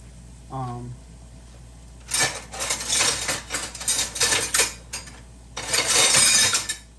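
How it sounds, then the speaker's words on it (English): A brief low tone, then clattering metal scrapes and clinks of a utensil against a pan in two bursts as bacon is drained, close by. "We're going to drain that bacon out right down the side."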